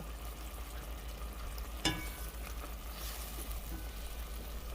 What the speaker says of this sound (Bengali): এবার একটু মশলাটা কষানোর জন্য অপেক্ষা করব।